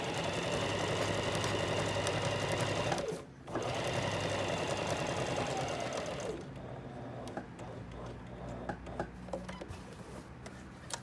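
A sewing machine stitching a tote bag pocket seam, a fast steady mechanical whirr that stops briefly after three seconds and resumes, then slows into looser, ticking stitches with small clicks toward the end.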